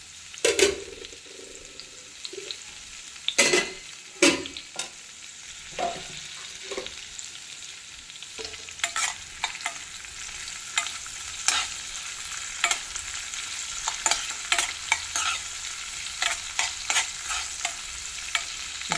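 Cumin, cashews and finely chopped green chillies sizzle in hot oil in a pan while being stirred, with a constant low frying hiss broken by sharp scrapes and clicks of the spoon against the pan.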